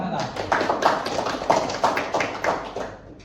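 A small group claps in a classroom setting, producing a string of distinct, roughly rhythmic hand claps close by, about seven or eight beats over a few seconds.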